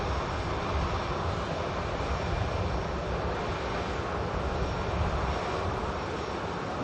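A Ryanair airliner passes Manchester Airport with a steady, broad engine roar that holds loud and constant throughout, with no talking.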